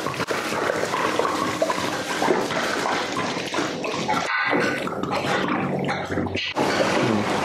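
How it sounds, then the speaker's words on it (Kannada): Water pours and splashes over a 20 kg batch of basmati rice being washed for mutton biryani, a steady loud rushing wash that briefly drops out midway before resuming. "ಈಗ ನೀರು ಹಾಕ್ಕೊಂಡು ಈಗ ತೊಳಿತಾ ಇದ್ದಾರೆ"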